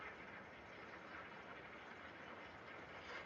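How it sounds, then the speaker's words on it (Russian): A steady, hushed mechanical hum runs continuously without variation, a soft engine idling with no voices. "Ось так тихо роботи мотор."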